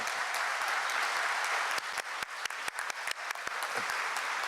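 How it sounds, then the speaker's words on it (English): Steady audience applause at a Black History Month luncheon fills the clip, a dense wash of clapping that thins out toward the end into scattered individual claps. "you mind standing up so we can give them a round of applause?"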